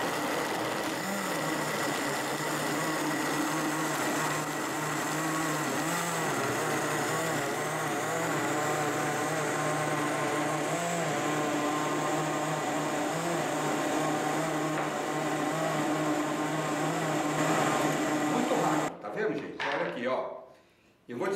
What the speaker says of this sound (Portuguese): E bastante gelo, né? Então, eu vou pegar aqui, a gente vai bater, sempre com a ajuda do liquidificador.